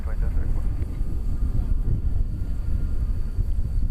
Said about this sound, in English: Now that was a plane that just took off for Oklahoma City